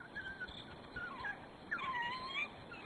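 A pack of seventeen African wild dogs in South Africa yelping and whining, several high, wavering cries overlapping at moderate distance, quiet but clear, with no talk.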